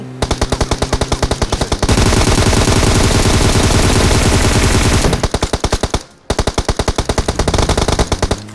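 Rapid automatic gunfire from an AK rifle in PUBG on the Erangel map, loud and close, with long sustained bursts and a brief pause near the end before firing resumes.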